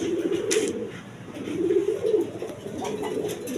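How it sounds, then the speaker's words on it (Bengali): A big Pomeranian pouter pigeon coos in low, rolling bursts, two main swelling calls repeated close by, over a soft background hiss. "পোমানিয়াম পটার কবুতর, বিগ সাইজের দেখার মতো কবুতর, কোয়ালিটি সম্পন্ন কবুতর"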